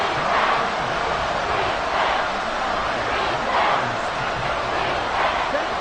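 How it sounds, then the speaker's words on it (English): A football stadium crowd at an NFL game roars steadily and loudly as the home fans get behind their team on a big third down, a dense, unbroken wall of cheering with no single voice standing out. "The crowd getting into it as we come up on a big third down."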